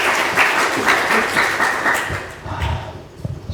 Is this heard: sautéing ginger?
no